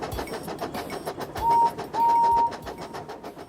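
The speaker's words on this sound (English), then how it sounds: "These are the sounds that the engines make." A railway engine hauls a train of clanking trucks through a yard: uneven knocks and rattles, broken by two shrill, sustained screeching tones, with no voices.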